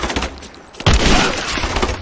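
Gunfire in the video game Rise of the Tomb Raider: a sharp loud burst near the middle followed by sustained dense firing and rumble, with quieter scattered shots before it.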